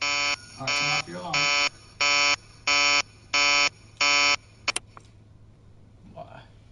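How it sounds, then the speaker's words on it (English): A video game alarm blares in seven loud, regular electronic buzzer beeps, then stops abruptly, followed by a couple of sharp clicks and a quiet stretch, with a voice speaking briefly during the beeps and again near the end. "turn off your alarm"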